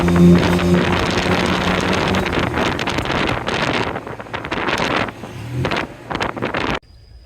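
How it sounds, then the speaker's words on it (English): Open tuk-tuk ride through the streets of Bangkok, Thailand, heavy wind rushing over the microphone with a steady engine drone beneath, loud and continuous until it cuts off abruptly near the end. "you must experience a tuk-tuk ride."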